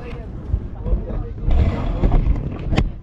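Engine of a large motorized fishing boat (bangka) at sea, a low rumbling drone mixed with wind buffeting the microphone and water noise, heard close and fairly loud.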